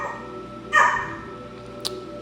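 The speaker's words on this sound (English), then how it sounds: "oh, you might hear the dog in the background that I'm watching." A dog indoors lets out a single muffled bark in the background behind a steady hum, followed by a brief faint yip, with no voices over it.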